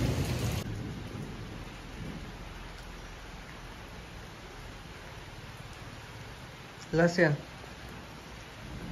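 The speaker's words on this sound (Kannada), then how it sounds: "ಮಳೆ ಇನ್ನೂ ಬರ್ತಾ ಇದೆ, ಸಿಡ್ಲು ಬೇರೆ ಬರ್ತಾ ಇದೆ" Steady heavy rain hisses through a hailstorm in Coorg. A low rumble of thunder sounds early on. A voice speaks briefly near the end.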